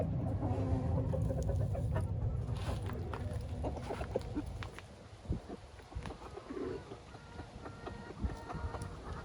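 Olive egger chickens cluck and murmur in a busy, continuous flock on a farm, with some bird chatter mixed in against steady outdoor background noise.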